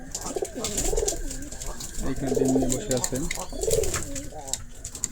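Pigeons nesting in baskets coo in soft, repeated throaty bursts close by, while a person talks over them.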